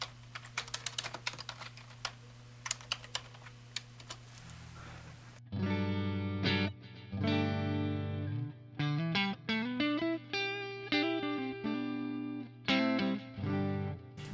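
Electric guitar through a Line 6 Helix modelling a Fender Deluxe Reverb on a clean setting: after some clicking, a run of clear plucked notes and chords rings out with short pauses between phrases, with no talking.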